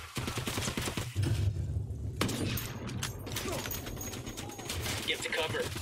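Sniper and automatic gunfire in the Ghost Recon Wildlands video game, a dense run of loud cracks and rattling bursts with booms and game noise throughout the clip.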